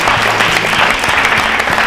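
Brisk, loud applause fills the room from the audience at a state-level election quiz show in Rajasthan, a short dense burst of clapping with no voices over it.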